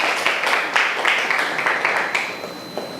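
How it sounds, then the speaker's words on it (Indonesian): Students in a classroom applaud together, a steady run of dense clapping with sharper bursts throughout, fairly close and continuous for the whole stretch. "tepuk tangannya dulu yuk."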